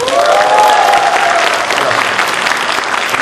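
A festive company family event fills with dense, steady audience applause, a full room clapping continuously at close range, while a brief voice rises over it near the start.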